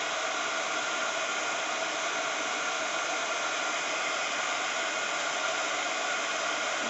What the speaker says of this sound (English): I'm just going to give this a blast with my heat gun.